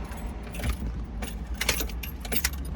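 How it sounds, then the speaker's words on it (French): Keys jangle as a car fails to start, the ignition giving several short, rough cranking bursts that never catch, fairly close and loud. "Je te jure que la voiture démarre pas."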